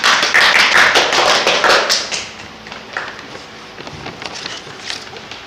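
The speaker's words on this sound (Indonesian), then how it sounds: "Saya kasih tepuk tangan." An audience claps hands at a children's preaching contest selection, a loud burst of dense applause for about two seconds that then thins into scattered, fainter claps and taps.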